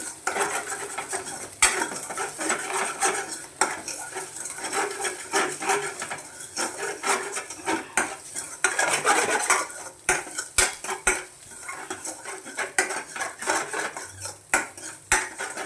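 Maggi noodles mixed with chili powder are stirred in a metal pan, a busy run of close scraping and clinking of the spoon against the pan, steady and loud with brief pauses, faint sizzling underneath.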